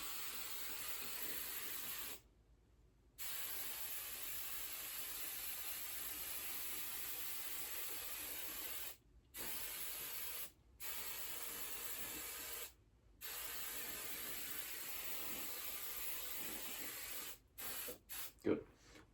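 Hairspray sprayed onto dress uniform pants in long, steady aerosol hisses broken by short pauses, ending in a few quick bursts, close and loud.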